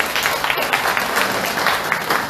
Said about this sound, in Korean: 감사의 박수를 보내드리면